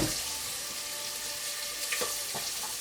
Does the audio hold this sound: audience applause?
no